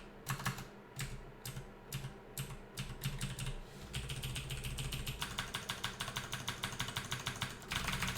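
Computer keyboard keys pressed during play of Dungeon Crawl Stone Soup: rapid clicky taps, first spaced out, then a dense steady run of presses, quiet and close.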